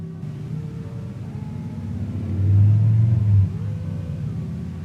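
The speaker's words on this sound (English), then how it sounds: "I wanted to get somewhere with these dang on motorcycles" Motorcycle engines rumble steadily nearby, with one bike revving louder for about a second before settling back into the low idling drone.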